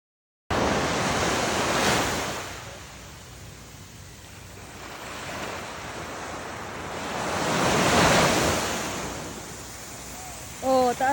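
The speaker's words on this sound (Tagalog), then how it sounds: "Oh, taas ng alon." Ocean waves breaking on a beach at Elyu, a steady roar of surf with swells rising and falling, wind noise on the microphone, and a brief voice near the end.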